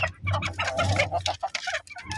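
Chickens clucking inside a coop, a close, busy run of short, overlapping calls over a low steady hum, with no talking.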